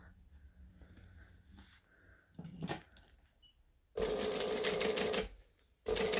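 A sewing machine top stitches along a fabric seam in two quick runs: a longer steady whir after some quiet handling noises, then a brief second burst at the end.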